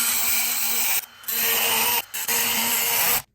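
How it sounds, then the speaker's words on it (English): Dremel rotary tool cutting into a motorcycle foot peg mount, giving a loud, steady high-pitched grinding whine in three close bursts separated by short pauses. "I choose Dremel."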